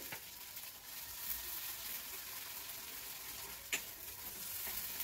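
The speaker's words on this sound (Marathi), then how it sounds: "मसाला छान फ्राय करून घ्यायचा आहे आपल्याला इथे।" Steady, soft sizzling of a spice masala paste frying in a kadhai wok for shev bhaji, with occasional scraping clinks of a spatula stirring it.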